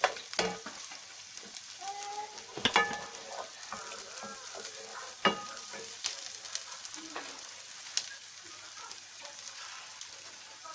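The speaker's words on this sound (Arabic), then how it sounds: "نحط عليهم البصل ونشوح البصل شوحه بسيطه" Onions sautéing in a pan while stuffed pigeon and a potato tray are prepared, a steady soft sizzle with scattered crackles and pops that runs the whole time, and no one speaking.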